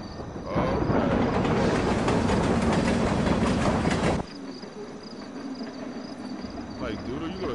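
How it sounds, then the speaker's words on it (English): A train rushes past loudly in the video game Life Is Strange Before the Storm, a dense rumbling roar with rhythmic clacking that cuts off abruptly, leaving a quieter ambience with insect-like chirping. "are you gonna sit there and get smacked by the train?"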